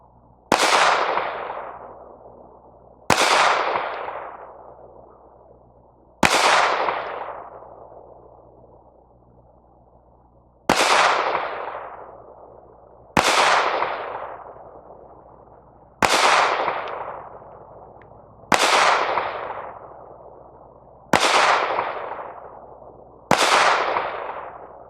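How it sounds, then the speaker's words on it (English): A Smith & Wesson M&P 2.0 Compact pistol fires old PMC ammunition outdoors, with nine loud, sharp shots spaced a few seconds apart. Each shot has a ringing tail that fades before the next. "Now I am shooting kind of cruddy old PMC ammo that I dug out of a box."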